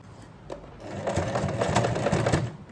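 A sewing machine with a single folder attachment stitching a blouse zipper: a few slow starting stitches, then a steady, fast, close mechanical whirr that runs until near the end.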